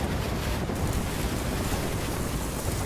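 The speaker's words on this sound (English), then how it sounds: "These waves are not good." Storm waves roll in at high tide during Hurricane Matthew, a loud, unbroken roar of surf mixed with heavy wind buffeting the microphone, with no talk.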